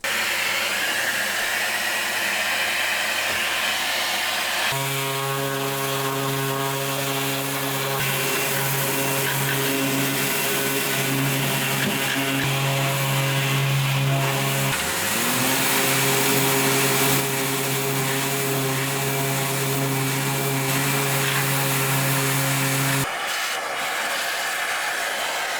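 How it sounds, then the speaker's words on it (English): A power sander works the surface of a Hallberg-Rassy sailboat, its motor whining steadily with a constant tonal hum, the pitch dipping briefly as the tool bears down, then cutting out near the end. "So now it's time for some sanding."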